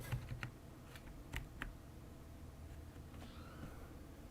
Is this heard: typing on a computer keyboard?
yes